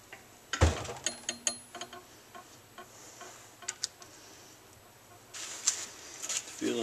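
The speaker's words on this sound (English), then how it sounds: "I'm going to torque these down to 38 foot-pounds" A torque wrench tightens bolts to 38 foot-pounds on a 1995 Suzuki G16A engine during disassembly work, producing a close series of sharp metallic clicks and ratchet ticks in irregular bursts.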